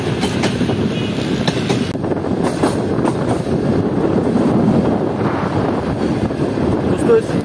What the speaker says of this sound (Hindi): तो अब ट्रेन पकड़ेगी थोड़ी सी स्पीड, 30 से आ जाएगी 50 पर